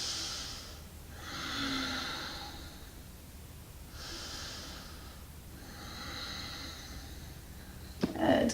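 Slow, full breaths during a gentle yoga shoulder and chest stretch: two soft inhale-exhale cycles, airy and close, with a small knock or rustle at the end.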